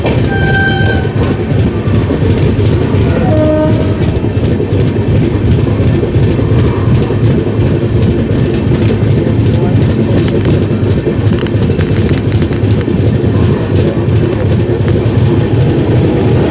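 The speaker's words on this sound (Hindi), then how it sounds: "सामने से कोई ट्रेन आ रही है, काफ़ी तेज़ रफ्तार है।" An oncoming train rushes past at high speed on an Indian railway line, heard from aboard a moving express. The roar is loud and continuous, with rhythmic clatter and a brief horn-like tone near the start, and voices talk underneath.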